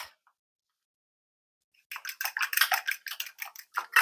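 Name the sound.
whisking eggs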